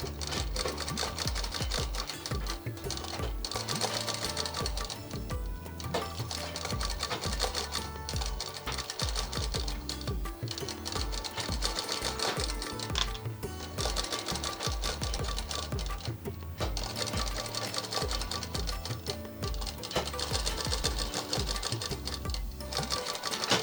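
A sewing machine runs steadily and loudly up close, its needle hammering in a rapid, continuous rhythm with brief pauses, while gathered fabric is stitched into the double-frilled skirt of a girl's frock.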